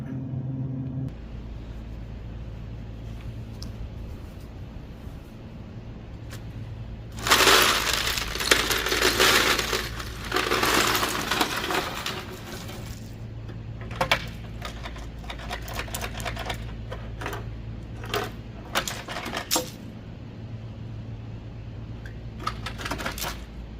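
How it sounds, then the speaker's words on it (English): A Frigidaire side-by-side refrigerator ice bucket is emptied onto grass, its ice cubes clattering out in a loud, dense rattling burst followed by scattered sharper clinks and knocks as the last pieces tumble free, with a steady low hum underneath. "now I'm going to dump the ice bucket"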